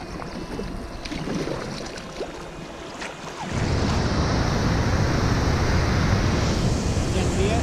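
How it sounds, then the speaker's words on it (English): Rough, fast water rushing along the Snow River in Alaska: a quieter, windy stretch gives way partway through to a loud, dense, continuous roar of churning water that fills the rest. "There's a bunch of gnarly water in there, even at low water."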